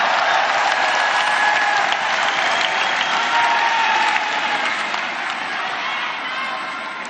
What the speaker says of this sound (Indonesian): Beri tepuk tangan untuk Mas AHY.